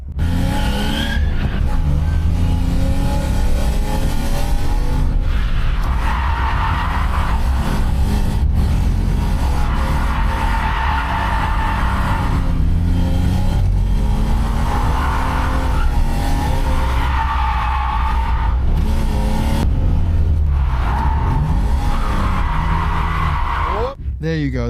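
A BMW 320i engine drones steadily while tires squeal and skid in repeated long drifting slides, loud and close throughout, with voices talking over it.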